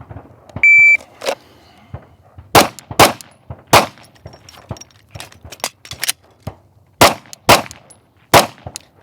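A pistol fired at near and far targets on a shooting course with a slide-lock reload: a short timer beep, then about a dozen sharp, loud shots in uneven pairs and singles, with a brief break partway through for the reload.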